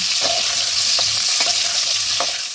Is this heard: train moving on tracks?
no